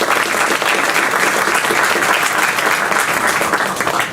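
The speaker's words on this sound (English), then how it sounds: "Let's have a big round of applause for Kristian Villadsen from Copenhagen." An audience claps in sustained, dense applause that holds at an even, loud level throughout.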